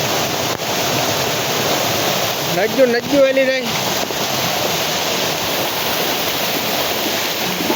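Floodwater rushes in a loud, steady roar after heavy rain in Umej village near Una, with a voice briefly speaking over the torrent midway.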